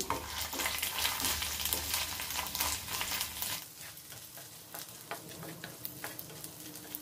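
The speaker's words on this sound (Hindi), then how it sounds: "मैं इसमें ये जो चावल लिए थे वो भी डाल दूंगी अब इन्हें अच्छे से रोस्ट कर लेंगे" Rice roasts in melted ghee in a pan for fig kheer, a steady frying sizzle with stirring scrapes, denser at first and then thinning into sparser crackles and spoon clicks.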